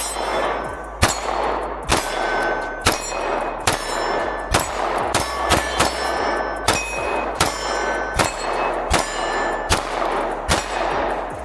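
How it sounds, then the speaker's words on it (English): An S&W CSX pistol is fired in a steady string of sharp, loud shots, roughly one each second, with a bright metallic ring after every crack and no talking. "Oh wow, that is so much easier to shoot."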